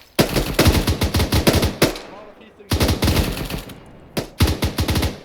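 Heavy automatic gunfire from an ArmA 3 co-op firefight crackles in loud, rapid bursts, with short pauses between volleys and a brief lull near the middle.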